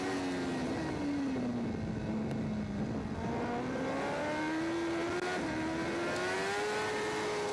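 A racing motorcycle at the 2023 Macau Motorcycle Grand Prix qualifying drones with a loud, continuous engine note that dips and rises in pitch as it works through the gears on the street circuit.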